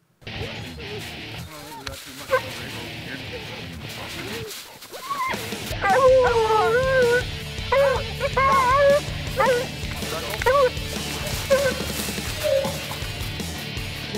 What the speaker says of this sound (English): So we released the hounds.